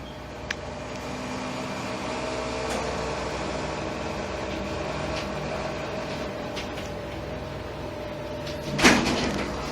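A steady hum from an old Dover Impulse hydraulic elevator motor at Parker Town Center in Plano, Texas, drones evenly in a machine room with a constant tonal whine, then a short clunk near the end.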